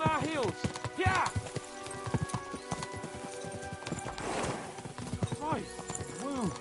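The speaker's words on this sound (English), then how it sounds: "We should spur the horses on." Horses gallop in Kingdom Come: Deliverance II, hooves clip-clopping in quick uneven bursts, with whinnies and neighs rising over the beats and a voice speaking briefly amid them.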